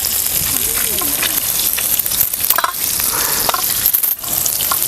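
Maharashtrian crispy fish fry sizzling in hot oil in a pan, a steady close crackle and hiss throughout with faint scattered clinks.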